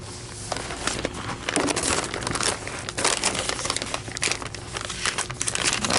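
Continuous loud crinkling and rustling of a paper vacuum cleaner bag being handled and folded close up, with no voices.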